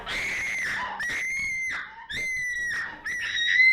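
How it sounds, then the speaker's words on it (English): A woman screams behind a locked study door, with several long, piercing shrieks broken by brief gaps and rising in intensity toward the end. "The screams are coming from the study."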